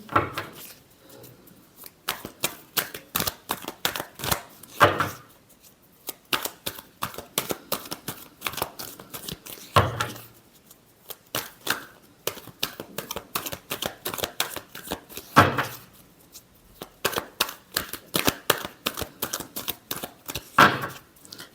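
Tarot cards shuffled by hand in a long run of quick, crisp riffles and flicks, with brief pauses between bursts, close and fairly loud with no talking.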